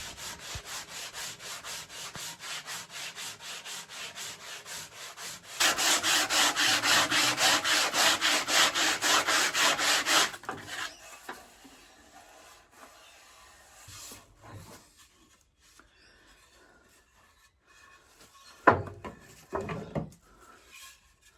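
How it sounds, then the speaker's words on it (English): A wooden spar is sanded lengthwise with the hollow side of a sanding block. Steady rhythmic rubbing strokes run alone for about ten seconds and grow louder midway, then give way to quiet handling noises. "Finish off with longitudinal sanding with the hollow side of the block."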